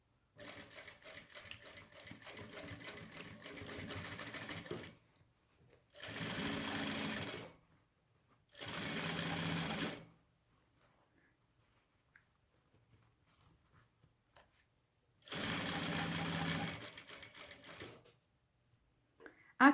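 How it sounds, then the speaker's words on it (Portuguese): A sewing machine stitches fabric for a children's lunch bag, starting with a backstitch: four bursts of rapid mechanical whirring, a long one and then three shorter runs, separated by quiet pauses. "E começo a costura com o retrocesso."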